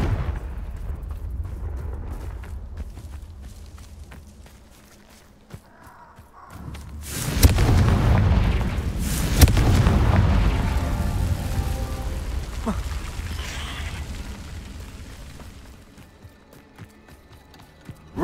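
A blasting-spell explosion in the video game Hogwarts Legacy erupts as a deep, rumbling boom that swells loudly and decays slowly over several seconds, with scattered footstep-like thuds and clatter before and after.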